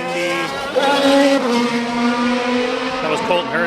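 IndyCar race car at speed on the Portland track during 2022 testing, a loud high-pitched engine whine that rises and falls in pitch as the car passes nearby, with people talking underneath.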